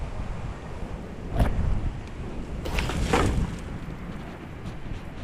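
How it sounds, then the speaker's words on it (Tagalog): Strong wind roars in broad, noisy gusts against the microphone, swelling twice and then settling into a steady rush, with no talking. "Oh, lakas ng hangin na dala eh."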